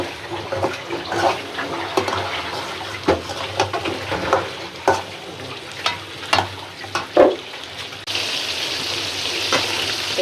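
Pointed gourd fries in oil in a pan, a steady close sizzle broken by repeated scraping stir strokes, and it swells into a louder, denser hiss near the end.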